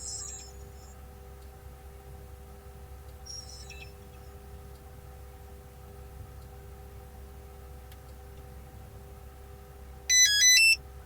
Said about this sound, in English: What you just heard was a synchronization tone.